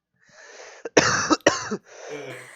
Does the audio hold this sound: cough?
yes